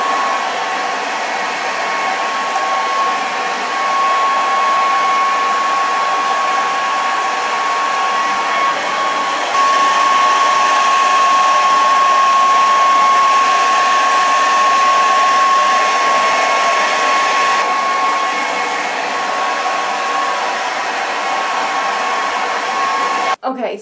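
A hair dryer blows continuously while hair is brushed dry, a loud steady whooshing roar with a fixed whine that shifts slightly in tone as the airflow is moved around, ending with a few clicks.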